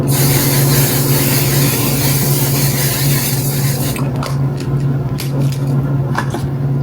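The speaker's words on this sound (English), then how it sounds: "I don't wait, I spray them back to back." A continuous hissing spray of makeup setting spray close by, followed by a few shorter bursts of spray with a low hum underneath.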